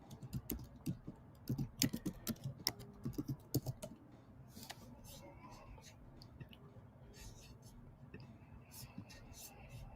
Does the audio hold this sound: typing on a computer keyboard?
yes